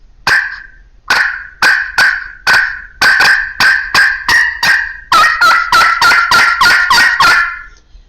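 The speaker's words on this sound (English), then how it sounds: "So it's going to be a bunch of clucks and some yelps." A slate turkey call sounding sharp, loud clucks and yelps in a steady series, evenly spaced at first, then quicker and closer together, very near.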